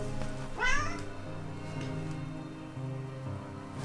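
A kitten meows once, a short rising and falling cry near the mic, over a steady indoor background hum in a home painting session.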